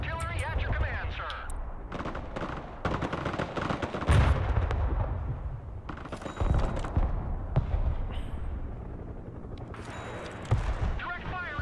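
Rocket artillery firing in the video game Broken Arrow, with repeated loud booming launches and crackling gunfire in bursts, under a voice speaking.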